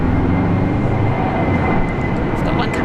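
Jetstar airliner taking off at Sydney airport, a loud continuous roar of jet engines filling the whole clip with steady low rumble, heard close and constant with faint voices underneath.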